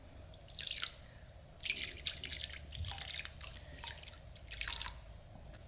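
Fuel drips from a removed catch can taken off a New Edge Mustang being rebuilt with a twin-turbo LS 5.3, landing in close, irregular splashy drips and short trickles.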